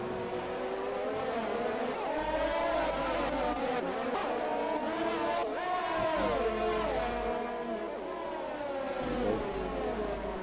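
Race cars in close battle at the Monaco street circuit, Mercedes and Red Bulls, engines whining continuously at high pitch with rising and falling revs, loud and sustained throughout.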